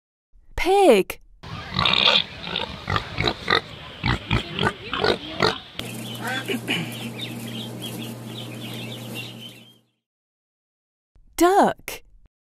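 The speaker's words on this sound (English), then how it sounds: "Pig." A farm pig gives a run of short, rough grunts at close range, with brief vocal sounds at the start and end and a steady low hum partway through.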